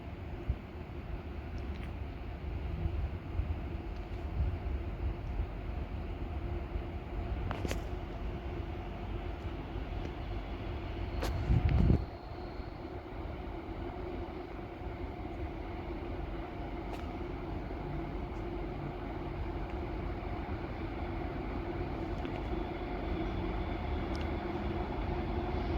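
A freight train led by an rebuilt SD70MAC locomotive approaches the Newport Road crossing, a low distant rumble growing slowly amid faint ambient noise, with a brief louder knock partway through.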